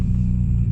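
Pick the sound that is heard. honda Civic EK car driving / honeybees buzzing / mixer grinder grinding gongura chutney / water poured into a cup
honda Civic EK car driving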